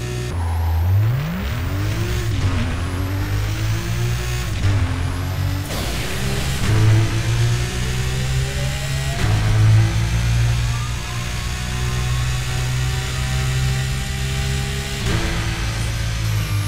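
A Nissan Skyline R34 accelerates hard in the racing game Burnout Paradise, its loud engine pitch climbing repeatedly through gear changes in a continuous, close roar.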